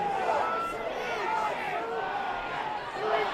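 A crowd at a 2017 Group 10 rugby league grand final between Orange Cyms and Oberon Tigers keeps up a steady roar of shouting and cheering, with a commentator talking over the top.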